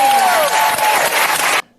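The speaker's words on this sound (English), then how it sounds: "the whole audience claps along to weirdness" A studio audience claps along steadily, dense loud applause with crowd noise that holds for about a second and a half before cutting off abruptly.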